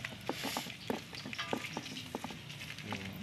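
Small anchovies frying in a pan of hot oil, a close, continuous sizzle broken by sharp crackles and pops, with no talk.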